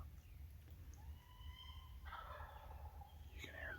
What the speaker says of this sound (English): I came in here this morning to hear the gobbles